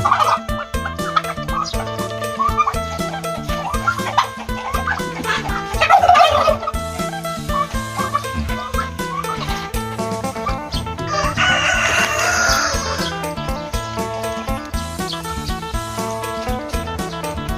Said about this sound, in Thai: ส่วนนี้ก็เป็นไก่